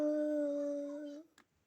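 A single drawn-out dog howl at a steady pitch lasts about a second, then cuts off, followed by a faint click.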